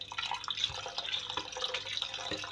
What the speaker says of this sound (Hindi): ये अब मैं डालूंगी इसमें थोड़ा पानी।